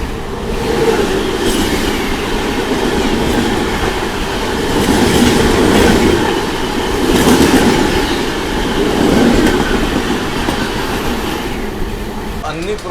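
The 12750 Bidar Machilipatnam SF Express runs loud and close along the rails, a continuous rumble with rhythmic clickety-clack of wheels over joints and faint wheel squeal, swelling and easing as coaches pass.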